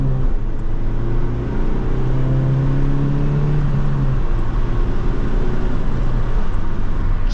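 The engine of a 1989 Ford Probe Turbo GT accelerates, heard from inside the cabin as a steady, loud drone whose pitch climbs through the rev range with no speech over it.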